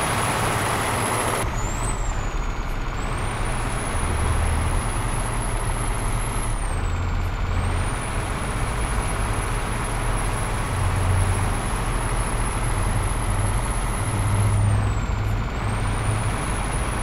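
Truck engine in American Truck Simulator, a steady loud low drone throughout, with a high whine that dips at intervals as the engine revs shift.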